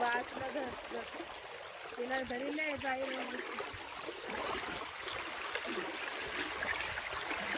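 A shallow river flows steadily as someone walks along its bank, a continuous close trickle and splash throughout, with a voice talking over the water in the first few seconds.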